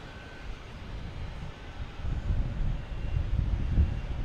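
A jet airliner arriving from Dallas Fort Worth at Boston Logan Airport rumbles low and distant, its roar swelling in the second half as it draws nearer, with no voices over it.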